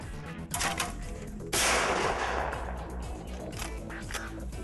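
A gun fires at an outdoor paintball-themed shooting session, giving a few sharp reports with one loud, ringing blast in the middle, fairly close, with no voices heard.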